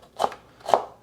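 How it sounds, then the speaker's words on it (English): Two crisp knife strokes chop through a carrot on a cutting board, each a sharp close thud spaced about half a second apart. "Who knew it was going to be so much work to cut up one carrot?"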